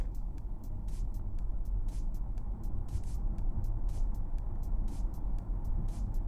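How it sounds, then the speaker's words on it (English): Steady road rumble of a car passing on a street, picked up from inside a vehicle by a dash cam, with continuous low engine and tire noise and faint regular ticking on top. "cropping in on this passing car"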